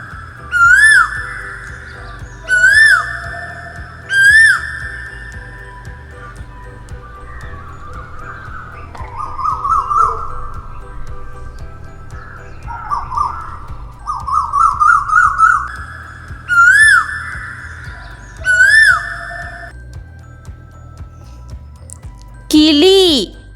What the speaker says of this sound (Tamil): குயில் கூவும்.